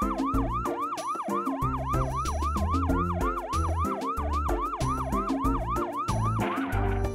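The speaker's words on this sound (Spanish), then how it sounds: "camión de bomberos." A wailing emergency siren sweeps up and down in a steady, rapid cycle, loud and close, with a low engine rumble beneath it.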